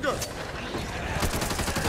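Bursts of automatic gunfire in the zombie shooter Back 4 Blood, loud and close, with a thick rattling barrage that pulses steadily from start to finish.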